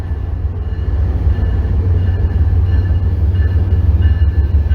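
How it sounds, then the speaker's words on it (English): A train rumbles steadily through Back Bay station, a loud, continuous low roar with rail noise filling the whole stretch and no voices over it. "if I could speak over this locomotive for a moment, I can"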